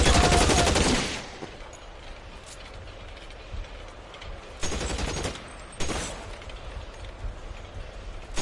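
Gunfire in LA Noire: a loud burst of rapid shots at the start, then quieter stretches broken by two further short volleys, close and harsh.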